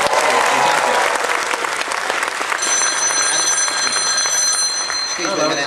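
Applause from a live stage audience fills the hall. Partway through, a bright, steady electronic telephone ring starts and keeps going over the clapping and crowd noise.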